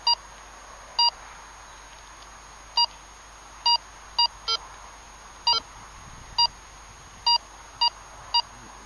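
A Minelab Go Find metal detector gives a series of short, clear electronic beeps while sweeping over a target, about ten evenly spaced bleeps over a quiet outdoor background.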